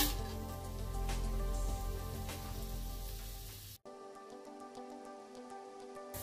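Whole spices hit four tablespoons of hot oil in a pressure cooker while making a beef mandi, giving a steady, close hiss that cuts partway through to a quieter, crackling, spattering sizzle.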